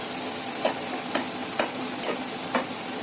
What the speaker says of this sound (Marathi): हे थोडं मिक्स करून घ्यायचं